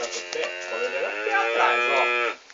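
A cow bellows in a long, drawn-out moo while being roped on a farm, a loud, close call that rises and wavers for about two seconds before cutting off.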